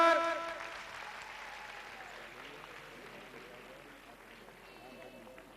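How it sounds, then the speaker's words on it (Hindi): An audience applauds at a singing contest prize announcement in Mysore, with a burst of clapping that starts loud and fades into a long, thinning patter, slightly distant and mixed with crowd noise. "जोरदार तालियां एक बार"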